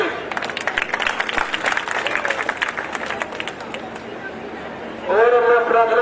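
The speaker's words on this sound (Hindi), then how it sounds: "सभी साथी ताली बजाकर स्वागत करेंगे" Outdoor village welcome gathering, a crowd clapping in loose, brisk applause with murmuring voices, then a loud held tone cuts in near the end.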